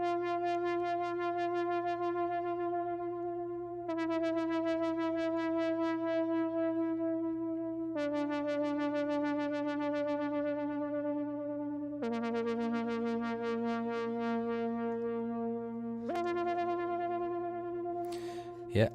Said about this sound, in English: It's the prog rock preset from the Monarch in Reactor 6.